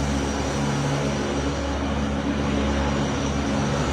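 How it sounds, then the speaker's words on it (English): A pressure washer with a surface cleaner runs across a concrete parking garage floor. A loud, continuous engine-like drone with a low hum holds steady throughout, with no voices. "We're going to use the surface cleaner on the edges where we can't get the machine, and then rinse to the center"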